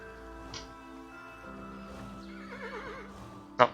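A horse gives a short, loud whinny near the end in the game Kingdom New Lands, over a steady background of game music.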